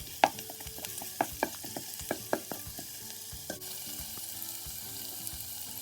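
Garlic in hot oil gives a soft, steady sizzle for spaghetti sauce, broken by a few sharp utensil knocks against the pan early on, with no talk.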